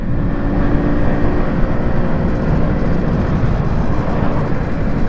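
A 1984 MZ TS125 two-stroke motorcycle runs steadily while being ridden on the road, its loud, buzzing engine note constant and close, mixed with wind rush and no speech.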